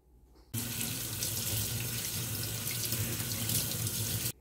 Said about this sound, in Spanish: Las voy pasando por un buen chorro de agua primero para quitarles la sal superficial